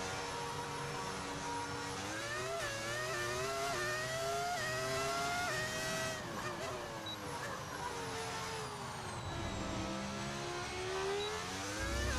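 A Formula One race car engine in the F1 25 video game runs steadily on track, its loud whining tone rising and falling through gear changes with no talk over it.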